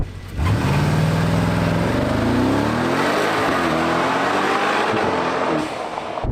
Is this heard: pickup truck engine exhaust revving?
yes